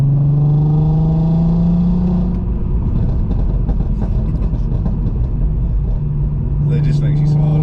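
A Volkswagen Golf R32 on its original exhaust revs up, holds, and drops off with loud, close engine drone and scattered crackle, while people talk nearby.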